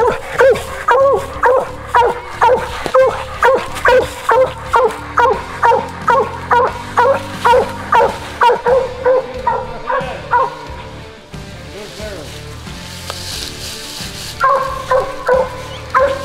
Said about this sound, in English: Both dogs ended up treeing a coon,